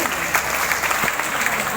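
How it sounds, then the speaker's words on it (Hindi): Loud audience applause at a crowded DXN gathering, steady dense clapping throughout with faint voices mixed in underneath. "आप लोग जोरदार ताली बजाइए।"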